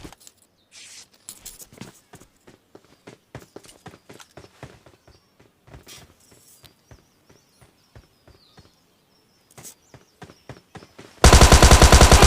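Gunfire and footsteps in the PUBG Lite battle royale game, sharp scattered shots and quick steps spread over about eleven seconds, ending in a sudden loud, harsh burst of sustained automatic fire.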